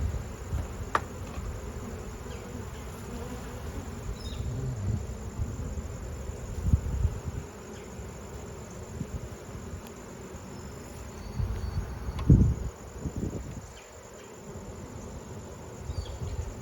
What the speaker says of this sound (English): And some bees carrying pollen.